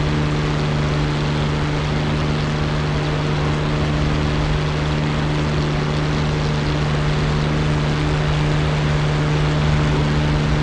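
A P-51D Mustang's propeller engine roars just after takeoff, heard from inside as a loud, steady, unbroken drone with a deep, even hum that holds for the whole stretch.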